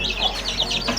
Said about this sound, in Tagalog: So, lagay na natin yung mga sisiw.